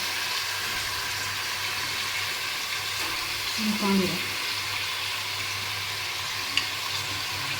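Onions fry in a pot for Sindhi biryani with a steady, moderately quiet sizzle, a brief stirring clatter partway through, and a faint voice at times.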